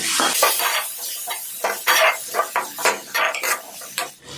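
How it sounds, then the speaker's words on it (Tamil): Tomatoes sauté in oil, sizzling while a utensil stirs and scrapes against the pan in quick, irregular strokes, close up and without talking. "இந்த தக்காளியை எண்ணெயில் வதக்கிடலாம்"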